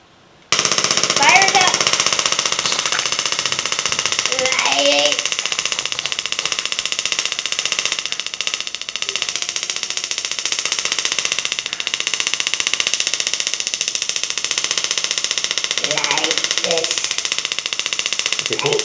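A tabletop mini Tesla coil fires continuously, throwing arcs of five to six inches with a steady, loud buzzing crackle that runs nearly the whole time, while voices talk briefly over it.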